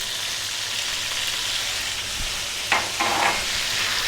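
Onion and garlic sizzling in a pan over medium heat, a steady close hiss with a couple of brief scraping stirs near the end.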